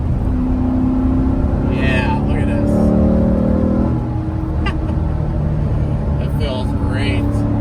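A Corvette C7 with a 6.2 liter LT1 V8, 7-speed manual and quad exhaust drives and revs, a loud continuous engine drone with rising and falling pitch through rev-matched shifts, with voices talking over it.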